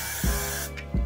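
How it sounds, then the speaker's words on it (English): Two short bursts of Got to Be Glued adhesive spray hiss into a bowl, each sharp and close, separated by a brief pause. "I'm gonna take my Got to Be Glued spray, and then I'm going to spray it inside of the bowl"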